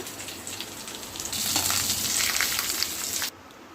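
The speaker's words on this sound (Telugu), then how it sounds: "ఇంక ఇప్పుడు తాలింపు దీనిలోకి వేసేసుకోవడమేనండి" Rasam tempering sizzles in hot oil, a close crackling hiss that swells loudly partway through, then cuts off abruptly near the end.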